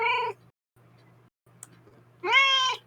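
A domestic cat meows twice, a harmonic call at the start and a louder, longer one near the end, with a quiet low hum and near silence between.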